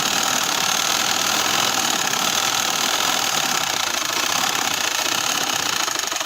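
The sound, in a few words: sewing machine stitching a dress seam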